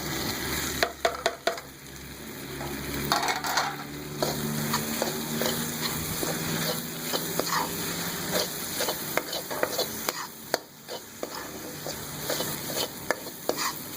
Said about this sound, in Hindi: मसाले को भूनेंगे 1-2 सेकंड के लिए, 5 सेकंड के लिए